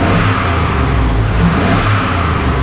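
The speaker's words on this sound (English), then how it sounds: "Let's give it a couple of revs." A 2002 Chevy Tahoe Z71 with a 5.3L LS V8 and 157,638 miles revs up close, a loud, steady mid-pitched engine roar held throughout, with no speech.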